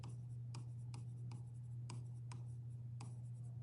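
Pen strokes on paper during a math lesson, several short scratchy marks at an irregular rhythm over a steady low hum, close and quiet.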